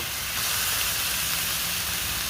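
Bacon and onions sizzle on a hot griddle for a smash burger, giving a loud, steady, unbroken hiss throughout with no voices.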